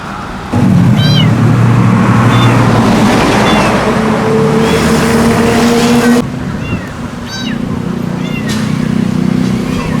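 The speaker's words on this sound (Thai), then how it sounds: "เสียงลูกแมวชัดๆ เลยครับ ไม่ใช่เสียงลูกเป็ดแน่นอนครับ เสียงร้องเ มียวเมียวเมียวแบบนี้ครับ" A kitten trapped inside a drain pipe gives thin, repeated high meows, heard through a loud, steady engine-like drone and rushing noise, with the cries recurring across the whole stretch.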